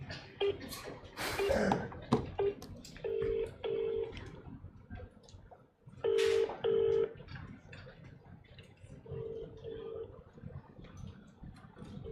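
Telephone keypad dialing tones beep in short, evenly spaced bursts over several seconds, clear and steady against a faint background murmur.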